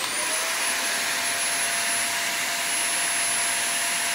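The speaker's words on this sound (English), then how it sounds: "Here's my vacuum. It is a Hoover Light, Air Light." A Hoover Air Light vacuum cleaner runs steadily and loudly, a constant close whooshing roar with a high motor whine held evenly throughout, no voices.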